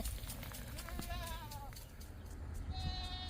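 A billy goat bleats on a farm with quivering calls, followed later by another thin bleat, under a person talking and steady background noise.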